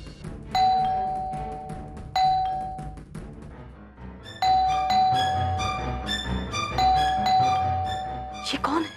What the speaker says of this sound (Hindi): ये कौन है जो बार बार घंटी बजा रहा है?